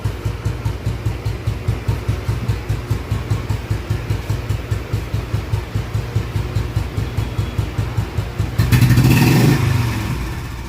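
A restored 1982 Royal Enfield Bullet 500cc motorcycle engine runs close by with a steady, rhythmic thumping beat, then breaks into a louder, rougher burst near the end.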